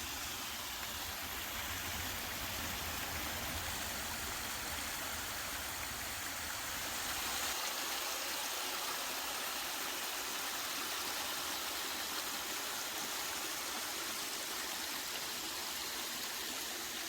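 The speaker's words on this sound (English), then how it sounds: "the main attraction here is this pretty nice little cascading waterfall" A small cascading waterfall in a park makes a steady, dense rush of splashing water that continues unbroken and fairly close, with a faint low rumble beneath it and no voices.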